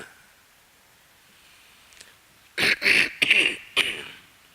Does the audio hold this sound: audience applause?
no